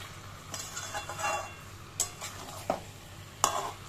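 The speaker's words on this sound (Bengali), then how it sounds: "এঁচড়গুলো দিয়ে ভালো করে কষাতে থাকবো।" Young jackfruit pieces stir-fried in a pan for a prawn curry, giving a soft steady sizzle with a few sharp scrapes of a spatula against the pan.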